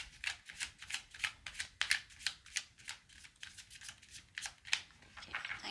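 Tarot cards are shuffled in quick, even riffles, a rapid run of crisp papery flicks repeating close up for several seconds with no talking.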